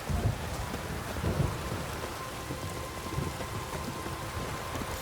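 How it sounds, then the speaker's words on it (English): Heavy rain pours steadily in The Witcher 3: Wild Hunt, Blood and Wine, with low rolling thunder rumbling near the start and again midway through the storm, no voices present. "A storm, damn it."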